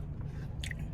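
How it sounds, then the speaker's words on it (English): Someone takes a quick, close bite into Jack in the Box fast food, giving a brief soft crunch with a chewing sound under a low hum. "That was a nice bite."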